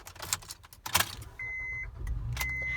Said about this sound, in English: I'm just going to start up the truck for you.